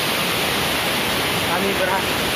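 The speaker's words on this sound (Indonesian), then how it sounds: "Ini dia penampakan air terjunnya, sungguh indah sekali" A waterfall at Lembah Karaeng gives a steady, broadband roar of falling water, continuous and fairly loud throughout with no breaks.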